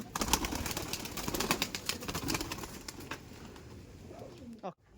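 A male and female breeder pair of pigeons coo inside a loft, with dense, close fluttering and scuffling. The sound quiets near the end, and voices may murmur in the background.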